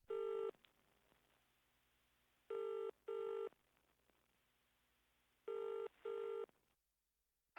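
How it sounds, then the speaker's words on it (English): A landline telephone rings before an answering machine picks up, giving three loud double-pulse electronic rings spaced evenly with quiet gaps between them, nearby and clear with no talk over them. "You've reached the McBrain residence"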